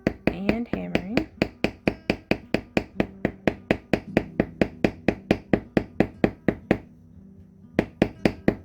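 Hammering on a DIY Wonder Woman circlet: a steady rapid series of sharp metallic-wooden strikes, about three per second, close and loud, with a brief pause before the blows resume.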